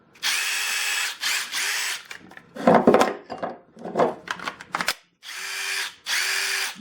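DeWalt Atomic impact driver powered by a 2.0 battery, whirring in several short bursts with rattling hammering impacts between them, close and moderately loud, with no talking.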